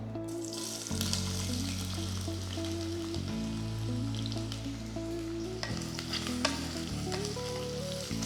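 Sliced onions frying in hot oil in a pressure cooker for mutton biryani, a dense continuous sizzle with stirring scrapes, under a steady low hum and tones from the stove.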